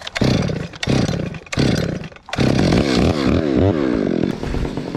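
A cold chainsaw struggles to start during maple tree removal, its engine sputtering in loud bursts, cutting out twice, then catching and roaring unevenly with rising and falling revs, close by and alone.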